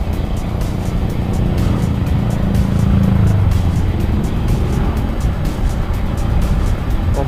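Motorcycle accelerating hard along a village road in Lebak, Banten, its engine note loud and close throughout, a steady roar with rising pitch and continuous wind noise, no talking.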